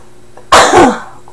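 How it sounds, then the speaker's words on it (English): A single loud, close sneeze bursts out after a brief quiet moment, then trails off with a breathy exhale. "I have to sneeze."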